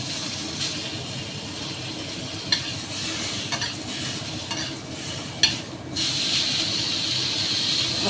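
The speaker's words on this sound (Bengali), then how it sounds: "ওটাকে একটু নেড়ে নেব।" Chopped tomato sizzles and spits in melted butter in a pan while being stirred, a steady close frying hiss with a few sharp scrapes and a brighter steam hiss near the end.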